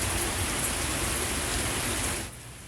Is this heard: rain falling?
yes